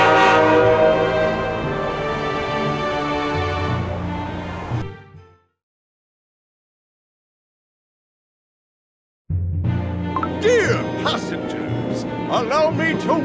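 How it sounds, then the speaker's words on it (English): In the Cookie Run game, a train departs with a rich, harmonic horn blast and rumbling, fades into silence, then returns with layered train noise while characters speak over it. "Our train is departing."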